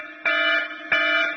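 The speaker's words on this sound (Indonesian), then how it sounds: "mohon maaf, ada alarm." A room alarm sounds in two sharp, loud electronic buzzing bursts, steady and tonal, each starting abruptly, with no talk over it.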